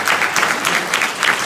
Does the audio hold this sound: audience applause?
yes